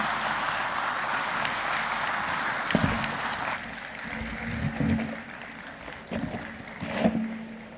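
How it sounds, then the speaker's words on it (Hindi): A large audience applauds loudly for the President at the 17th Pravasi Bharatiya Divas, a broad, sustained roar of clapping across a big hall, with a few thumps and a voice starting near the end. "बस जोरदार तालियां माननीय राष्ट्रपति महोदया के लिए"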